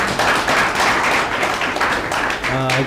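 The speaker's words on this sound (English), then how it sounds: "Maybe we can give them a round of applause for the hard work they've been doing." Audience applause rings out in a hall for the technical team at a Multimedia University of Kenya live-streamed event, a dense steady wash of clapping that holds throughout before a voice begins speaking at the very end.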